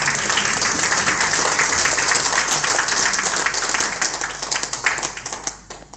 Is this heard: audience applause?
yes